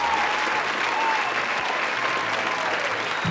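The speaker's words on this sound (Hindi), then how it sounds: "मैं आपकी ज़ोरदार तालियों के बीच" Loud, dense applause from an audience at a digital celebration event, greeting a royalty award achiever as he is called up; steady, sustained clapping fills the whole stretch without letting up.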